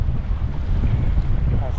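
Strong wind on a boat at Lake Mead buffeting the microphone in a constant low roar, with faint splashing water beneath it.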